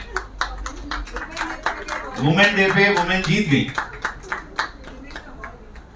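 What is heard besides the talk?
audience clapping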